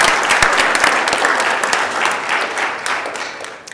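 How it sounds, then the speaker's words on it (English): An audience on the Senate floor applauds visiting guests, a dense round of clapping from many hands that stays steady and fairly loud before tapering off at the end. "If you could please let them feel welcome by giving them a round of applause."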